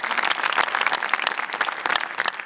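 A studio audience on a DD National business show claps to welcome a guest, a brisk, steady patter of many hands at moderate loudness throughout.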